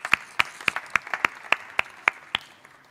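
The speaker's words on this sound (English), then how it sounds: "please give a round of applause to our panelists" Applause welcoming the panelists at a plenary session of a Best of Bangladesh event: a small number of crisp, distinct claps in a steady rhythm, fairly close and fading slightly at the end.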